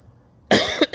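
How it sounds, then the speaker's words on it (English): A single sharp allergy cough bursts out after a moment of near silence, followed by a smaller second cough, close and brief. "I cough because I have allergies"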